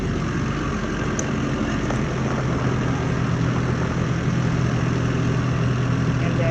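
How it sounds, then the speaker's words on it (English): A tractor engine runs steadily while loading biochar onto a spreader in a sugarcane field, a continuous low rumbling idle with a faint clank or two early on and no talking. "Here, they're loading the biochar onto this spreader loader. They're using a tractor."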